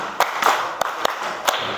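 Children clap their hands in a classroom counting clap game. Five sharp, separate claps land close by at uneven intervals, with no voices in between.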